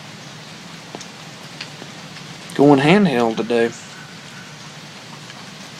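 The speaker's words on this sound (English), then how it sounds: "Sitting out on the porch listening to the last little bit of rain before the next big storm moves in." Light rain falls outside a porch as the last of a shower before a storm, a soft, steady, even hiss throughout, with a voice briefly talking over it near the middle.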